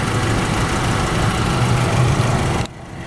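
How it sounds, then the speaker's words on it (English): A 2003 Volkswagen Jetta Wagon's 2-liter engine idles with a steady, smooth hum, recorded up close with no voices, before the sound drops off abruptly near the end. "2-liter engine just purring away like brand new, no rattles, no squeaks, no excessive sounds"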